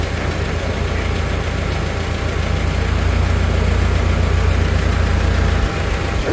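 A Super C tractor engine runs at a steady idle, a loud, continuous low-pitched rumble with a slight knocking pulse that holds close and even throughout, with no talk.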